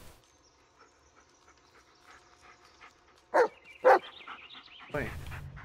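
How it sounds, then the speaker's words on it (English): Dog barking and panting in the Blair Witch video game: two sharp barks close together midway, then a breathy burst near the end, over a quiet ambient game background. "Listen to his barking and watch his body language."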